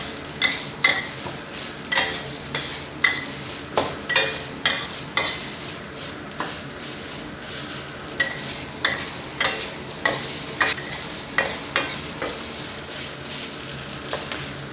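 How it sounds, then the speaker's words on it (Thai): Yellow curry paste stir-fried in a pan for spicy braised pork ribs, a loud close sizzle punctuated by a steady rhythm of repeated spatula scrapes against the metal, roughly one stroke every half second, with no voices. "เราก็ผัดให้พริกแกงเหลืองหอมก่อนครับ"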